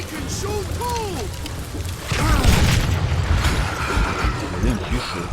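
Gunfire booms out in the Western shooter Call of Juarez: Gunslinger, a few heavy shots and impacts close up, mixed with game voices and background action.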